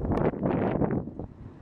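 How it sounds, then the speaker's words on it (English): A strong gust of wind buffets an outdoor microphone, a broad roaring rush that swells loudly, holds for about a second, then eases off into a lighter breeze. "big gust."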